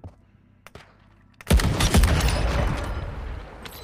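Sniper rifle fire in Warzone Mobile: quiet game ambience with a few faint ticks, then a loud, sharp shot that rings out into a long, rumbling tail, with no voices.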